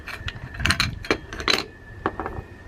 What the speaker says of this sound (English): just using the little wrench to hopefully get this